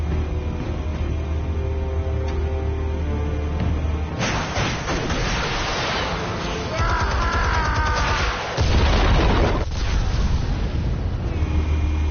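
Explosives detonate in a PS4 video game with heavy, dense blasts and rumbling debris, loud and close. The bursts come in waves over a steady background drone, with a brief lull between them.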